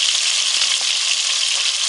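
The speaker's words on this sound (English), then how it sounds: "I'm frying my fish in mustard oil." Tilapia fish frying in mustard oil for a Bengali recipe, with a steady, close, bright sizzle that hisses evenly throughout without any talking.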